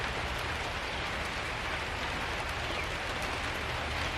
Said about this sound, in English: Raining a little bit. Summer rain, but it's still kind of cool.